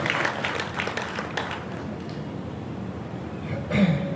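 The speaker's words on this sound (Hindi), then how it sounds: "तो एक बार अपनी भादरा धरा के लिए जोरदार तालियां हो।" A burst of crowd applause at a book launch event in India that fades out over a few seconds, with a brief voice rising near the end.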